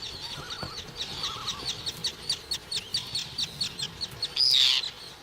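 Birds call at an Icelandic nesting ground in early summer, a run of sharp, evenly spaced chirps repeating steadily at moderate distance, with a few softer lower calls early on and a brief louder squawk near the end.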